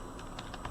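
A few light computer keyboard key taps, soft and spaced out, quiet against a faint background hiss in a short burst.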